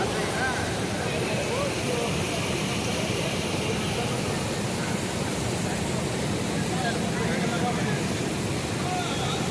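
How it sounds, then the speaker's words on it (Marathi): Water thunders down a dam spillway in heavy flow, a continuous loud, dense roar with no breaks across the whole stretch. "ही धरणाची सांड आहे, त्याच्याहून किती मुसळधार पाणी हे खाली जोरात प्रवाह करत आहे"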